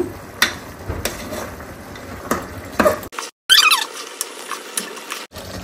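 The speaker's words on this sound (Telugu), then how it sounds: "ఒకసారి బాగా మిక్స్ చేద్దాం" Chili powder and ginger garlic paste being stirred into gongura mutton in a pot, giving close scraping and squeaking strokes with a few sharp clinks.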